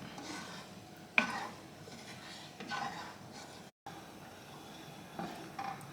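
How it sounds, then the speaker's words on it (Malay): A pot of coconut milk for fish curry stirred in soft scraping sweeps with one sharp clink of utensil on metal, quiet and close, with a brief dropout. "Bila kita dah letak santan ni macam biasalah, kita kena kacau dia."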